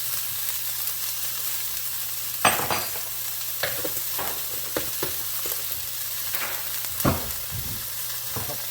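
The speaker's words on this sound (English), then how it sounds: "Caramelize the onions." Onions caramelize in a pan with brown sugar, a soft steady sizzle under regular scrapes and stirring clatter, close and fairly quiet.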